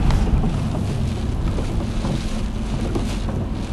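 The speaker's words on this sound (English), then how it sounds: "even if it is pouring rain" Heavy rain pouring down outdoors by a waterfront with old mill buildings, a loud dense wash of rainfall and wind buffeting the microphone throughout.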